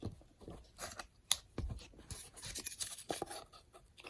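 Scissors cut through cardboard in faint, irregular crunching snips and scrapes, heard close but quiet, with no speech.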